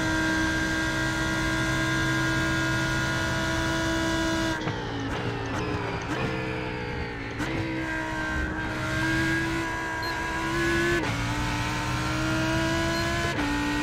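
Lamborghini Huracan EVO GTE race car lapping Daytona at night in a video game, its engine droning steadily with upshifts and revving changes throughout, loud and continuous with no talk.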